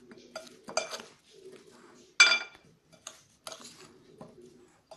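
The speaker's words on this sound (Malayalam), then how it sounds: "നെല്ലിക്കയും ഈ പൊടിയും കൂടെ നമുക്ക് നന്നായിട്ട് മിക്സ് ചെയ്തെടുക്കാം." A spoon scrapes and clinks against a bowl while gooseberries are mixed with pickle spice powder, a few separate close clatters with quiet gaps between them.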